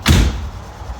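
A single loud door slam lands with a heavy thud, then fades into quiet room noise.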